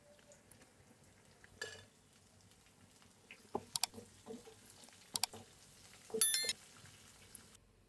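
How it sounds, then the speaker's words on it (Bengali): Spice paste with garam masala fries in hot oil for a dal tempering, soft sizzling and stirring scrapes with a few sharp clinks of the spoon against the pan. "আমার পেস্টটা ভাজা ভাজা হয়ে গেছে, বাগারের জন্য কমপ্লিট।"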